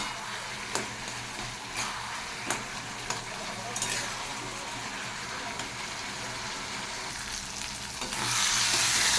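Snake gourd stirred and frying in a pan, with steady sizzling and a few sharp scraping strokes of the spoon early on, the hiss swelling louder near the end, close and without talk.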